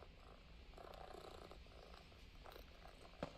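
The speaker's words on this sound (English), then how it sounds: "I hear my cat." A cat purrs softly and steadily nearby, a low continuous rumble for a few seconds with a faint click near the end.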